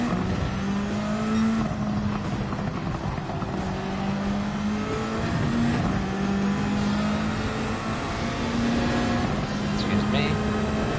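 A Ferrari engine in Gran Turismo 7 drones steadily at a sustained pitch, close and continuous, with slight rises and falls in tone over a dense road-noise bed.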